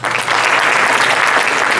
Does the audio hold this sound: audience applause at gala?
yes